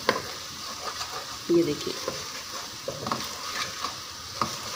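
Chicken with salt and spices is stirred in a hot pan, soft scraping strokes over a continuous frying sizzle, while someone briefly speaks.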